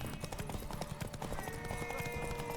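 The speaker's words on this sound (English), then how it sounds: "Want that horse, don't ya?" Rapid clip-clopping hoofbeats from a horse in The Witcher 3: Wild Hunt in a steady rhythm, with faint background tones underneath.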